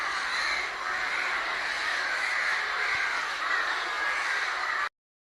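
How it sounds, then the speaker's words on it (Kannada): Crows caw in the evening near a temple, a dense chorus of overlapping calls rising from a flock, steady and fairly loud, with no talk, ending abruptly. "ಸಂಜೆ ಮೇಲೆ ಎಷ್ಟೊಂದು ಕಾಗೆಗಳು ಕೂಗ್ತಾ ಇತ್ತು."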